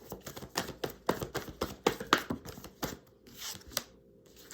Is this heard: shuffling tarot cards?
yes